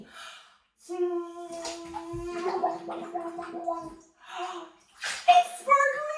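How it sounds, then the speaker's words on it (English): A small child blows bubbles into bathtub water with an adult nearby, giving bursts of gurgling, bubbly sputters amid singsong vocal tones over about six seconds, with a louder splashy finish. "Make bubbles with me"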